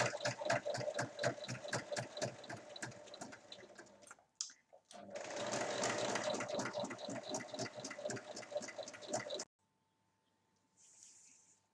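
A sewing machine stitches tote bag straps in long runs of rapid, even mechanical chatter, close and steady, with a short pause partway and a quiet stretch at the end.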